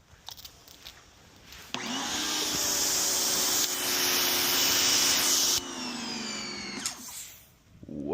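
New pressure washer spray gun with its stock nozzle spraying water, a loud steady hiss starting abruptly, holding for about four seconds, then cutting to a lighter spray before fading.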